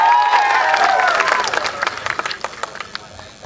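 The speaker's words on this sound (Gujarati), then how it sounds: "જોરદાર તાળીઓ સાથે આપણે તેમનું સ્વાગત કરીશું." A rally crowd at a Rajpipla public meeting breaks into applause to welcome a speaker, dense clapping that thins into scattered claps and fades within a few seconds.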